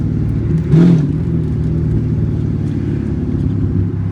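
A catless Chevrolet SS with an axle dump exhaust rumbles close by with a deep, steady idle drone and a brief swell of revving early on.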